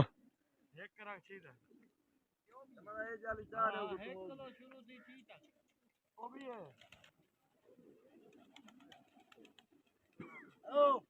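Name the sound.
pigeons cooing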